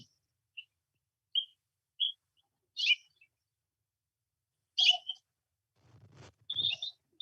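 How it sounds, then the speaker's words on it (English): Birds chirp in short, scattered bursts against near silence, a few high tweets spaced out, then a quicker cluster of calls toward the end. "all you hear is birds chirping"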